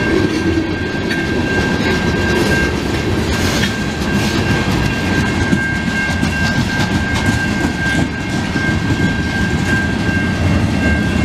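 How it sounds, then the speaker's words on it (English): CN freight train passing through Montreal's St Henri borough, a loud continuous rumble of rolling cars with steady clickety-clack, a thin high wheel squeal running throughout, heard close and without talk. "that's like three trains going west in a short amount of time"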